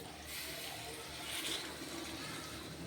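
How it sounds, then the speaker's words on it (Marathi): Water is poured into a pan of eggplant curry, giving a quiet continuous splashing gush that swells slightly in the middle and runs on unbroken. "आणि यामध्ये थोडं पाणी घालून घेऊयात"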